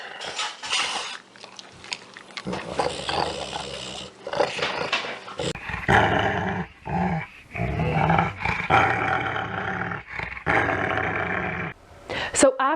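A dog growls and snarls in rough bursts at close range, mixed with chewing and mouth noises, while a person talks over parts of it.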